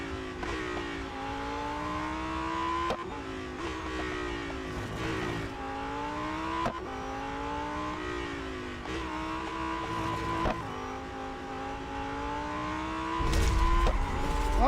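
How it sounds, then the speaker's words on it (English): A race car in the video game Real Racing 3, engine revving up and down through repeated gear shifts with a squeal of skidding tyres near the end, loud and continuous, with no talk. "Now I'm skidding."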